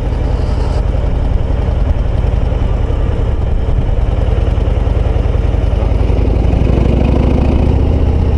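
Harley-Davidson Road Glide ST bagger with a 117 engine pulling steadily in third gear at about 1500 rpm, a continuous low, loud rumble that holds through to the end with no talking.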